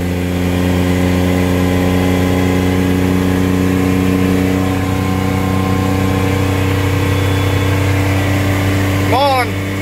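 A 1965 Ford F600 truck engine pulling in second gear while towing, a loud, steady, droning hum that holds an even pitch throughout, with a brief squeal near the end.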